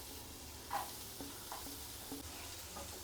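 Onions fry quietly in melted butter in a pan, a soft steady sizzle with a few light stirring clicks and scrapes, faint and even throughout, with no talk.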